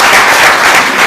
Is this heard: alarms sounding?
no